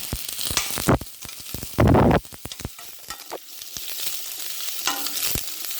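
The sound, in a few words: onions frying in a pan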